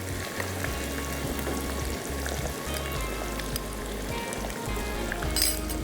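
Garlic ginger paste frying in a pot with onions and boiled meat, a continuous close sizzle with small clinks of a spoon against the pan and a brief swell of louder crackling near the end.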